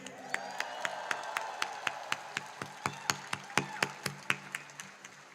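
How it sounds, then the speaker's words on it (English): Applause at a university commencement for business graduates, a crowd clapping steadily with regular sharp claps standing out in a rhythmic pulse and light cheering mixed in. "Let us give a final round of applause to our business graduates."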